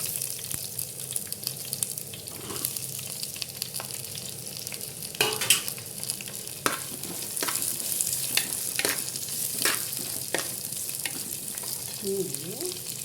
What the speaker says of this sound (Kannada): ನೀರುಳ್ಳಿ ಹಾಕ್ತೇನೆ.